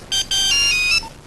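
A telephone ringtone in a classic PTV drama sounds two loud electronic bursts, a short one then a longer warbling one, close and clear with no voices over it.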